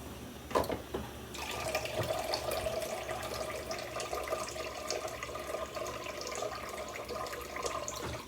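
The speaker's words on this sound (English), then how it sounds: "Then get a little water." Kitchen tap water runs steadily into a pot for cooking collard, mustard and kale greens, a continuous hissing pour starting after a brief knock, moderately close.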